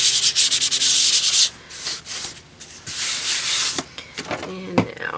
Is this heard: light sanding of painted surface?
yes